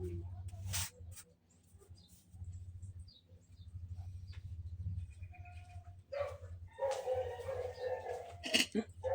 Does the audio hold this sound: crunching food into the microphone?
no